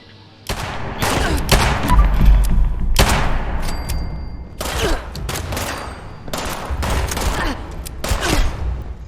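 Gunfire from above in the video game Fallout 76 at Hornwright Industrial, loud repeated bursts of shots arriving in clusters with short gaps between them, close and sharp, with no speech over it.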